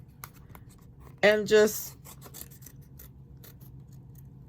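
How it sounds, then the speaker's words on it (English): Scissors snip through still-wet paper during paper piecing, giving one short, close rasping cut of about half a second, with a few quiet words of talk before it. "I'm just going to take some scissors and come in while it's still wet"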